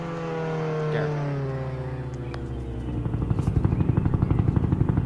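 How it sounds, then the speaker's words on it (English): An army helicopter in Roblox Jailbreak drones with a steady engine hum that builds into a loud, rapid rotor chop in the second half, with no speech. "if I was to go get an army heli right now"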